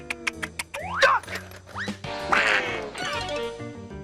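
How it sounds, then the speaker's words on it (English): A cartoon duck quacks in a rapid string of short, bright, nasal squawks, some bending upward in pitch, followed by a longer, more drawn-out quacking burst, loud and close. "I got a duck, and I'm gonna use it!"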